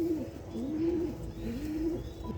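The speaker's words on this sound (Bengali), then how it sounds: "দেখুন পায়রাটা।" A domestic pigeon coos close by in a home loft, two drawn-out rolling coos one after the other, clear and unhurried over a low background hum.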